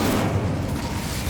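The Incendio fire spell cast in Hogwarts Legacy on PS5 lets out a loud, dense, continuous roar of flame, like a sustained fiery blast, with no talking over it.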